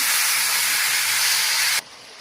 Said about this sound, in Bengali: চুলাতে একটা কড়াই বসিয়ে দিয়েছি এবং কড়াইতে মাংসগুলো মাংসকে দিয়ে দিচ্ছি